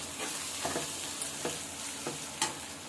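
Ginger paste and garlic fry in hot oil, a steady close sizzle broken by several short scraping strokes of a spoon stirring the pan.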